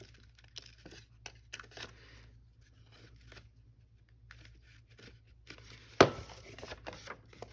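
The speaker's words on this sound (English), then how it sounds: "Oh, I do want to cut the corner." A single sharp snip at the corner of a paper envelope made for a junk journal, close and clear, surrounded by quiet rustling and handling of paper in an otherwise calm craft setting.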